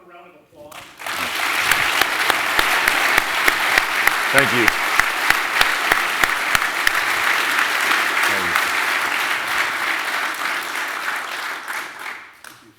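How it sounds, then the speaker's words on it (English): Audience applauding for a former quarterback at a summit event, steady loud sustained clapping with a brief thank-you spoken over it. "A round of applause."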